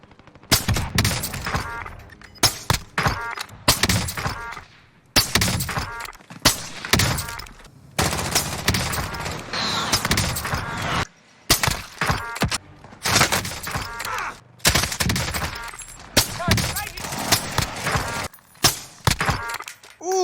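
Call of Duty Warzone gunfire from an SPR marksman rifle, sharp loud single shots and short bursts separated by brief silences, with impacts and breaking sounds among them, close.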